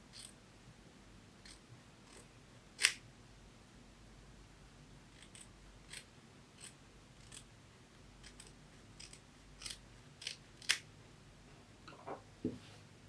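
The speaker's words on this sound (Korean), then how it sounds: "5mm 정도 남기고 테두리에 남은 천을 잘라주세요." Scissors snip leftover fabric around the border of a traditional knotted baby belt, trimming close to the edge; a handful of short, crisp cuts come at irregular intervals over a quiet room background.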